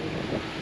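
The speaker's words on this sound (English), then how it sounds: "hopefully the wind's just coming towards us" Wind gusting steadily across an outdoor microphone at a lakeside campsite on a motorhome trip, a continuous low rumbling buffet with no speech, fairly quiet throughout.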